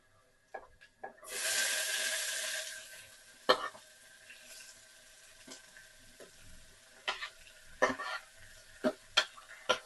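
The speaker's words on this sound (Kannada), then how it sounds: "ಈರುಳ್ಳಿ ಗೋಲ್ಡನ್ ಬ್ರೌನ್ ಬರೋ ತನಕ ಮಗ್ಗಿಸ್ಕೋಬೇಕು" Onions sizzling in a pan with green chilli and ginger on a low flame, a burst of loud frying hiss at first that settles into a steady soft crackle, broken by sharp clinks and scrapes of stirring.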